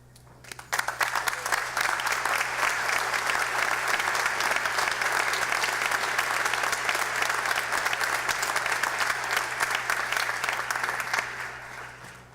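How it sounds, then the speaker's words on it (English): Audience applause for faculty at a Purdue University Northwest commencement ceremony, sustained dense clapping from a large crowd that starts abruptly, holds steady for about eleven seconds, then tapers off. "please stand and be recognized with our applause."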